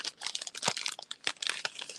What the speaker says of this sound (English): I can get the paper out of the bag.